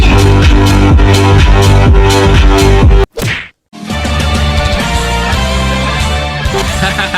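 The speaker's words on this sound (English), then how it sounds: "Let's turn on the radio, see what we got playing this morning" Loud, bass-heavy music with a driving beat plays through an Audi S4's car sound system. It drops out briefly for a sharp whooshing break, then resumes.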